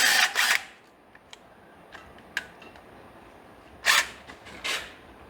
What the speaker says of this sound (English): There's several 5/16 screws right here. Gotta take them out.